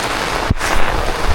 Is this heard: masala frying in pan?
no